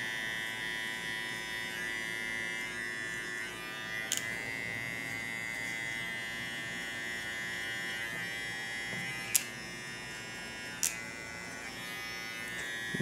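Steady buzzing of an electric hair clipper with a high comb guard running continuously during a boy's traditional haircut, with a few brief sharp clicks or snips along the way; no talking.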